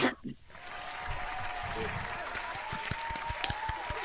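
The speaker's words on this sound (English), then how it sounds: "That you got an applause thing." A canned applause sound effect plays during a live stream, a steady wash of crowd clapping that swells in after a short burst of talk and continues evenly, with a voice speaking over it.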